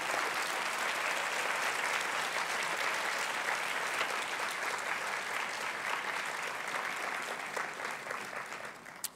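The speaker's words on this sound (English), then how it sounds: "Please give her a special applause." Sustained audience applause at a healthcare quality awards ceremony, a dense steady clapping from a large crowd that holds strong throughout and begins to taper off near the end.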